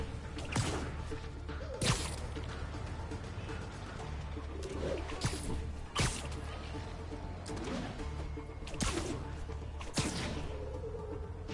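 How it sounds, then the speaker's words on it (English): Pigeon cooing in the Spider-Man Unlimited video game, repeated soft coos over a steady game background with periodic sharp whooshing hits. "One of Howard's pigeons."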